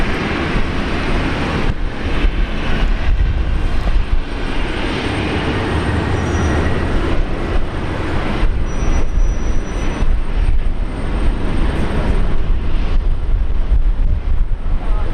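Airliner taking off from runway 19 left at Brisbane Airport, a steady, loud broadband jet roar holding for the whole stretch with slight swells, alone without voices.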